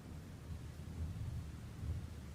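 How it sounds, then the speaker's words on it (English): A heavy thunderstorm sound effect plays as a faint, low rolling rumble of distant thunder beneath a soft hiss of rain, steady and quiet with no voices. "You begin to hear a heavy thunderstorm."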